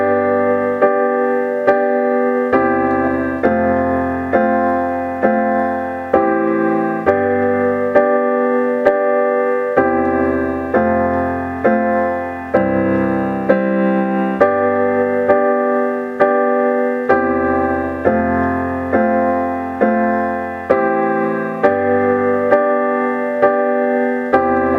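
Piano plays the chorus of a song at full tempo, sustained chords struck in a steady rhythm and ringing full and close, with no voices.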